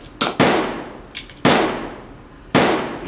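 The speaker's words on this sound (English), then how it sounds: "You see? Them gunshots." Sharp popping bangs, four or five in quick irregular succession, each snapping loud and close then fading fast, like toy gun shots.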